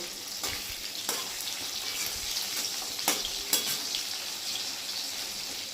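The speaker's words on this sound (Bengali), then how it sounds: "তেলে মাছ দিয়ে দিয়েছি।" Bata fish fry in hot oil in a pan with a steady, close crackling sizzle, broken by a few sharp pops and spatters, and no talking.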